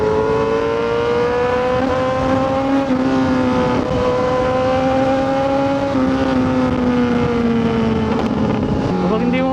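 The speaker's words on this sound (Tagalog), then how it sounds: "Napakaingay ng tambucho eh." A loud motorcycle exhaust drones steadily close by, its engine note rising and falling slightly with throttle, with wind buffeting the microphone throughout.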